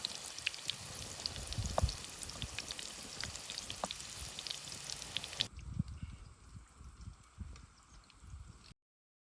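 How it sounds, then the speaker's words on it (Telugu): Corn samosas frying in hot oil, a steady crackling sizzle with scattered popping that dips and changes texture partway through, heard alone without talk. "నూనె కాగినాక ఇవన్నీ వేసేసుకుందాం"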